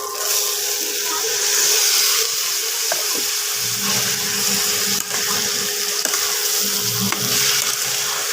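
Rice, moong dal and masoor dal being sautéed together in a pan for khichuri, a steady sizzling frying hiss with scattered sharp clicks of stirring, loud and close throughout.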